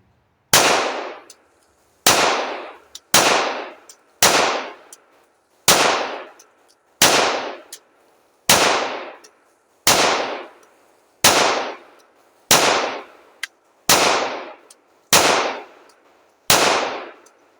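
A Smith & Wesson M&P .45 ACP handgun fires thirteen sharp, loud shots at a steady, unhurried rhythm, each crack ringing briefly before the next, with no voices.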